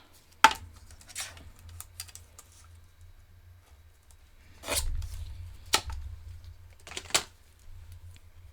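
Cardstock being trimmed for a Christmas card gives a few sharp, quiet cutting clicks and scrapes spaced apart over otherwise near silence, no talking.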